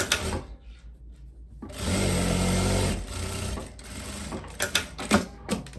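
A sewing machine stitches a pocket on a long viscose dress, with a close, steady whirring run of about a second and shorter bursts and handling clicks around it.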